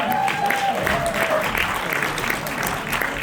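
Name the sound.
audience applause welcoming a team on stage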